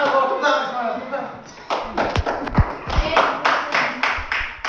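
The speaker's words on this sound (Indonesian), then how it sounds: "Tepuk tangan semua." Students in a classroom break into scattered, uneven hand clapping that builds into brisk applause, with a teacher's voice talking over it.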